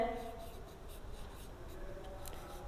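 Pen writing out an arithmetic progression answer in a Class 10 maths lesson, a steady soft scratching that runs continuously at low level under faint background noise.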